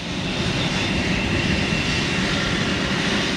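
Jet airliner engines being dry run on startup give a loud, continuous, even roar with a faint whine on top, holding steady throughout with no voices.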